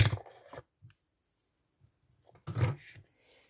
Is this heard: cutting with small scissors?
yes